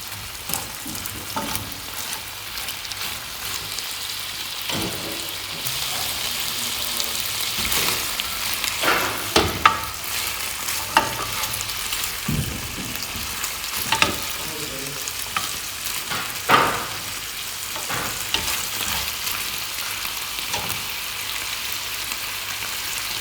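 Tomatoes and onions fry in a pan with a continuous hissing sizzle. Irregular stirring scrapes and clicks sit close up on top of it, and no one speaks.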